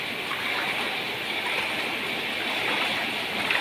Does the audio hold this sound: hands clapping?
no